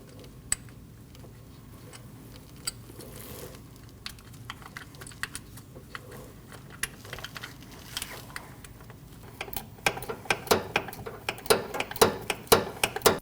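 Bolt being threaded in and tightened on an ignition coil of a Nissan NV2500 van, faint at first, then a quick run of close, sharp ratchet-like clicks building toward the end.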